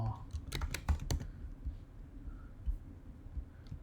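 A computer keyboard clatters in a quick run of sharp, distinct keystrokes near the start, then fades to a few faint taps over a quiet room hum.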